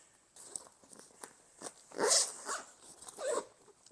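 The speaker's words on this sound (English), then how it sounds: "So it zips up like this." The zipper on an Onli Travel bag is pulled shut in short rasping runs with scattered fabric rustles, the loudest zip strokes coming near the end, close and moderately quiet.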